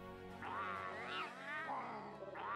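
A cat character in the Monster Hunter World video game meows close and clear, several drawn-out rising and falling cries following one another without pause, with no talking.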